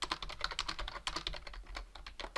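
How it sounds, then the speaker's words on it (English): Fast, steady typing on a computer keyboard while writing a chat message, close and continuous keystrokes with no speech over them. "Just type in there."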